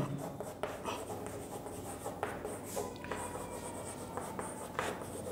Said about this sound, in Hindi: तो एक लाइन लिखेंगे